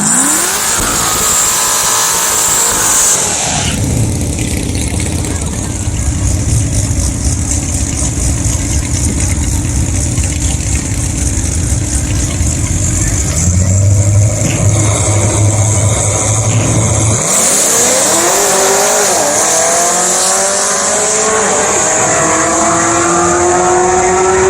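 A C6 Corvette with an LS3 V8 and a Texas Speed Stage 4 camshaft at a drag strip: a loud, close, steady engine drone that drops and changes, then a rising rev and hard acceleration pull near the end.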